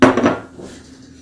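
Metal cookie sheet and pan handled in a home kitchen while preparing white chocolate chip oatmeal cookies, a loud close clattering clank followed by a brief ringing fade, no talking.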